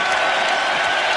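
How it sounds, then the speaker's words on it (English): Sustained applause and cheering from a large arena crowd in Philadelphia, an ovation for Michael Jordan after a free throw in his final NBA game, Wizards vs 76ers in 2003; dense, steady roar throughout. "A 3-minute ovation following a free throw."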